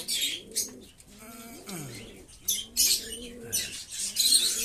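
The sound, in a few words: pigeons cooing as they are released for morning feeding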